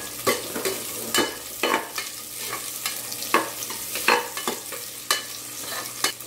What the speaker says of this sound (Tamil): இப்போ எண்ணெய் சூடாயாச்சு நம்ம வந்து கூட எடுத்து வச்சுருந்த வெங்காயத்தை ஆட் பண்ணி வதக்கி